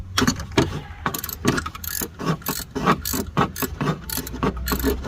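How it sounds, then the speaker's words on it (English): A ratchet on a long extension works a 10mm bolt loose on a 1998 Ford F150 during an EGR valve replacement, giving rapid close clicking strokes in quick repeated bursts with no talking. "I'm using my long extension to get this 10mm bolt out."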